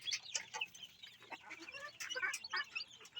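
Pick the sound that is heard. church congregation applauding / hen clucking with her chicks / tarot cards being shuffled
hen clucking with her chicks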